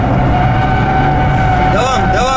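A Renault Megane RS engine revs hard at full throttle around the Istanbul Park circuit, heard from inside the car as a loud, steady drone whose pitch climbs and shifts near the end, with voices talking over it.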